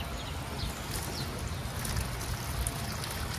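Water running freely through the cleared radiator passages of a Chinese 150cc scooter's cooling system during a flush, a steady faint trickling rush with no talk.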